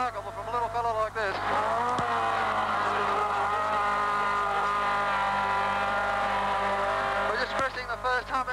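Race car engine at Bathurst screaming steadily at just over 8,000 rpm, loud and close for most of the stretch, with a brief dip in pitch near the start and a shift near the end, over faint commentary.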